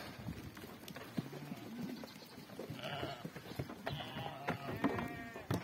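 Faint sheep bleats in the distance, a few calls scattered over soft outdoor rustling and shuffling.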